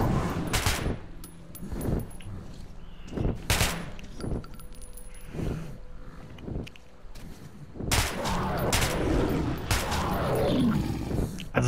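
Rapid bursts of gunfire in the video game Metro 2033 Redux, loud and close, firing in repeated volleys with short pauses between them, then a denser stretch of shooting near the end.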